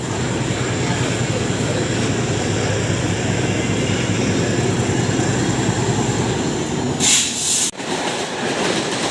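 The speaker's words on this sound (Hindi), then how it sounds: "तो फिलहाल हमारी ट्रेन आ चुकी है" A Mumbai local train arriving at a station, a loud continuous rumble and rattle of rail cars rolling in, with a brief sharp burst near the end.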